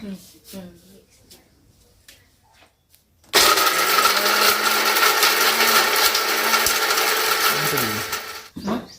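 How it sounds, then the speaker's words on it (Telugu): A kitchen mixer grinder whirs loudly and steadily for about five seconds after a short quiet stretch with faint household sounds, then cuts off, while homemade wheat-flour vermicelli is being prepared. "మిక్సీ పడుతుందా"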